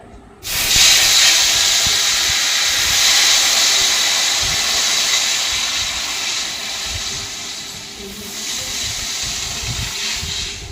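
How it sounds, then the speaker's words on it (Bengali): Chana dal poured into hot oil in a wok, bursting into a loud, sudden sizzle that holds as a steady hissing roar, easing slightly toward the end. "ডালটা ঢেলে দিতে হবে কড়াইয়ের মধ্যে।"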